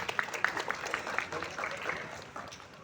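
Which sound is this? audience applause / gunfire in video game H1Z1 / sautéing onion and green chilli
audience applause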